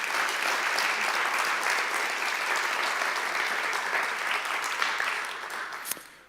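Sustained audience applause at a TEDx event, a dense, moderately loud wash of many clapping hands that thins and fades near the end.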